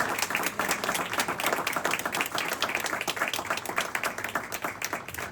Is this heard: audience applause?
yes